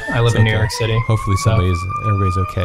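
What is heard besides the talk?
siren passing by outside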